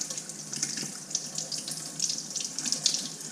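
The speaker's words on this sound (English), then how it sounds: "Then we're going to rinse that off." Tap water running steadily over a silver ring to rinse off polishing compound, a continuous close splashing hiss with small spattering variations, no voices.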